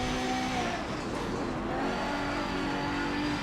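A Ferrari FXX K in Forza Motorsport 7 holds a steady, loud engine roar in sixth gear as it accelerates at the Nürburgring, its pitch climbing gradually across the whole stretch with no voices.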